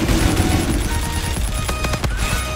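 Rapid automatic gunfire in a laggy online shooter game, with sustained bursts of shots rattling in quick succession, loud and continuous, without speech over it.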